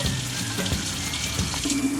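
Hot tap water running hard into a kitchen sink over a strainer of cooked ground beef, a steady close rushing splash with faint clatter underneath.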